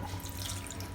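Bitter gourd and raw mango being washed in water, a steady close splashing and trickling from a tap that runs the whole second without a break.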